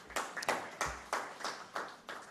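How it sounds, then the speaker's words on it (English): Hand claps from an audience at a human rights event, about seven distinct, fairly evenly spaced claps, sparse and moderately close with no talk over them. "Let's give them a big hand clap."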